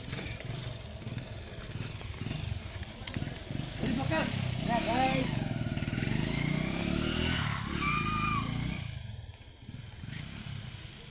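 A stolen motorcycle's engine revs and rises in pitch as the bike is ridden away, fading slightly toward the end, with people talking over it throughout.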